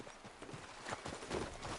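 Horse hooves clip-clop at a walking pace in Red Dead Redemption 2, a quiet rhythmic series of soft thuds over faint background ambience.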